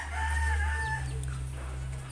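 An older laying hen gives a drawn-out vocal call followed by softer low clucking, close by, with a steady low hum underneath.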